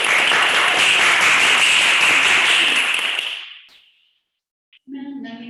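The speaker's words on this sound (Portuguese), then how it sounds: "Vamos aplaudir." Loud, dense audience applause at an oratory development meeting, sustained for over three seconds before fading to silence, followed briefly by another sound starting at the end.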